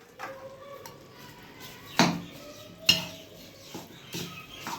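A spoon clinks and scrapes against a pot while katla ingredients are stirred and mixed at home, with a few sharp metallic knocks and softer scraping between them, close and quiet.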